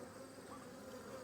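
Honeybees swarm over a hive frame around their queen, a steady, close insect hum droning without pause for the whole moment, with no voices over it.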